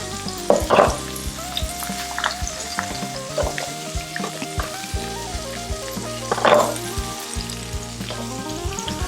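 Ingredients sizzle steadily in a hot pan beside a tomahawk ribeye steak, a close continuous frying hiss with a few louder bursts, heard under music.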